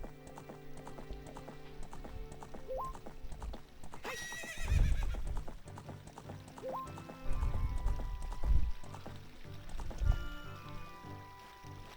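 A horse gallops with quick clip-clop hoofbeats in Zelda Ocarina of Time, with a loud whinny partway through, over game music and a few low thumps.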